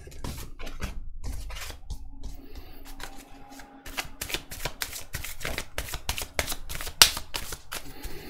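Tarot cards being shuffled for a reading, a close, continuous run of crisp riffling flutters and quick card slaps that grows busier toward the end.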